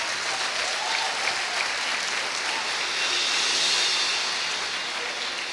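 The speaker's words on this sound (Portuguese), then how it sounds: "Pode ser mais alta as suas palmas" Loud, steady applause from a church congregation during a sermon, a dense continuous wash of clapping that swells slightly toward the end, with no talking over it.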